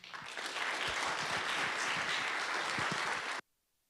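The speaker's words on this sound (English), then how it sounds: "let's give them one more round of applause" Audience applause following a university team's final presentation, a dense, steady wash of many hands clapping at full strength for over three seconds before cutting off abruptly into silence.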